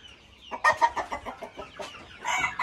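Chickens cluck in short, choppy bursts close by, a few excited squawks rising near the end.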